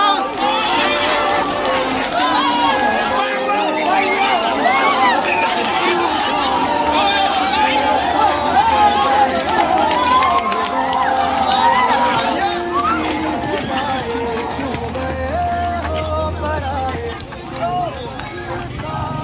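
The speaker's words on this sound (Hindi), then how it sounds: "गाइस इधर का भीड़ देख सकते" A large outdoor crowd at a West Bengal meet-up packs and blocks a road, producing a dense, steady babble of chatter and shouting voices close around, continuous throughout with occasional louder calls.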